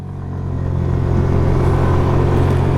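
A 2026 Hero Destini 110 scooter engine opens to full throttle, its close, steady drone swelling in loudness and holding strong under rushing wind.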